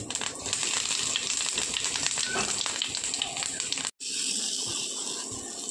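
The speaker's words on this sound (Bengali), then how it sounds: "তেল গরম হয়ে গিয়েছে, গোটা জিরে ফোড়ন দিচ্ছি আর দেব বেশ কিছুটা হিং" Whole cumin seeds and asafoetida sizzle in hot oil in a pan, a dense, steady crackle that runs close and fairly loud, with one brief break partway through before the frying resumes.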